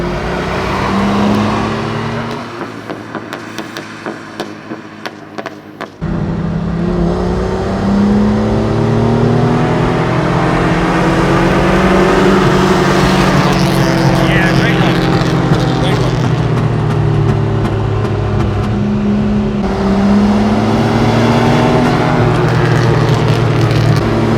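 A loud Mercedes 220 Ponton engine revs and races with a raw, unmuffled roar on a racetrack at Eau Rouge, pitch rising and falling through gear changes, with a brief rattling lull early on.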